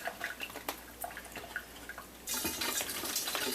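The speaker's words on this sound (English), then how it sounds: "I'm going to add some water." Water poured from a tap into a fermenting pineapple wine, starting with scattered drips and clinks, then a loud, steady rush of running water through the last second or so.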